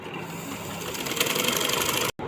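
A sewing machine runs continuously, stitching a double seam on a kameez, a steady dense whirring that cuts out abruptly near the end before briefly resuming.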